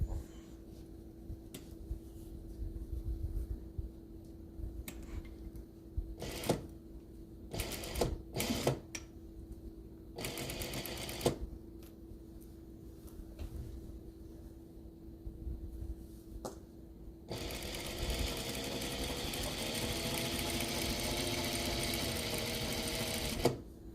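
A sewing machine stitches premade binding onto a quilt, with short bursts of needle clatter and pauses, then a long steady run of stitching at the end; quiet and close.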